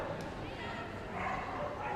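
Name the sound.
loose dog barking at Crufts flyball event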